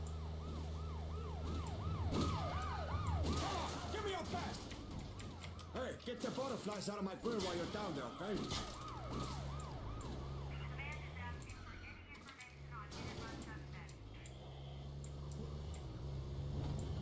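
Wailing police sirens in the video game Scarface: The World is Yours, several rising and falling tones overlapping loudly with car engine noise and crashes, while a player talks over the game sound.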